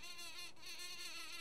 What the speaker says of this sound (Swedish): Myggan flyger och surrar.